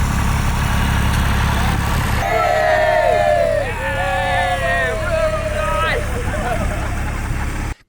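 A vintage tractor hauls people from parking at Stonor Park, a stately home, to an event. Its engine gives a steady low rumble under continuous talk, then cuts off sharply at the end.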